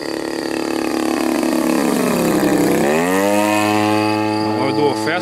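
RC Pitts Special 1.5 m biplane with a 26cc gas engine, loud buzzing drone that holds steady, then drops in pitch as the plane passes, with a faint voice near the end.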